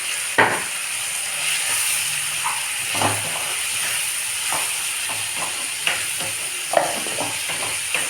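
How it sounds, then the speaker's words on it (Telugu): Tomatoes fry in a pan for a cluster bean curry, giving a steady, loud sizzle and hiss with occasional stirring scrapes and clinks, and no speech. "టమాటాలు కొద్దిగా వేగాయి."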